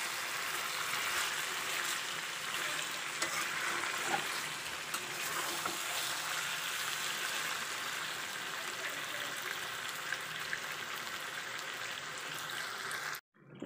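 Chicken curry fries in a pan that has just been uncovered, giving a soft continuous sizzle and bubbling with faint scraping from stirring. It ends abruptly.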